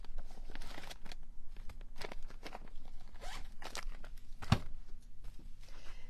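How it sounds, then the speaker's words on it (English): Scissors rough cut a piece of fabric in quiet, close snips and crisp rasping strokes, spaced irregularly with one sharper clack partway through, and no voices. "I am going to just rough cut a piece of fabric."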